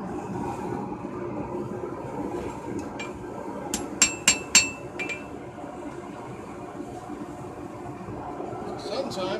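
A hammer forges a blacksmith knife with a finger ring on an anvil, giving a quick run of four or five bright metallic clinks midway over a quiet, low background.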